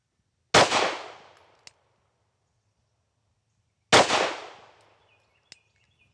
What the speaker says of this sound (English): This first one, I'm just gonna naturally stick it out and pull the trigger and see what the gun does.